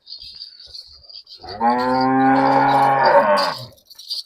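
A cow at a Punjabi village livestock sale of heifers and calves gives one loud, close moo lasting about two seconds, with a quiet background before and after.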